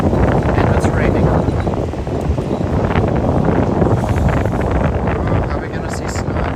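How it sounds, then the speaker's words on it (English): Strong wind buffets a microphone on a cold, rainy Tokyo street in the evening, a steady loud roar of gusty rumble that continues unbroken throughout. "it's really windy and it's cold."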